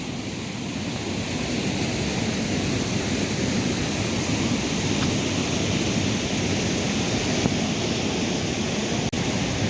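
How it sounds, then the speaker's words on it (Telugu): Water rushes strongly and continuously through a canal, a dense roaring wash of flow close by with no breaks. "నీళ్ళు మాత్రం ఫుల్గా వస్తున్నాయి"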